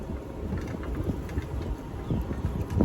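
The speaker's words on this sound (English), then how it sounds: "A little windy today." Wind gusts buffet the microphone outdoors beside a smoker grill, a steady low rumble with irregular thumps and swells throughout, loud and close, with no voices.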